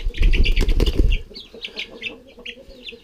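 A young chick recovering from a splayed leg flaps its wings in a loud, close flurry for about a second, then gives soft chirps and clucks.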